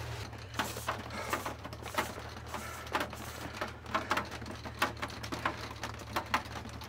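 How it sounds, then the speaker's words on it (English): Sudden heavy summer downpour of large, cold raindrops in Big Sky, Montana, drumming in irregular bursts of patter against a van, with a steady low hum beneath. "It is just downpouring huge, cold, thick drops of rain."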